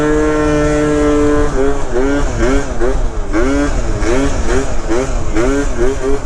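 A Yamaha Zuma scooter fitted with a 70 cc kit and a Leo Vince exhaust pipe, close and loud, holding a steady buzzing drone then revving up and down in repeated rising sweeps as it rides.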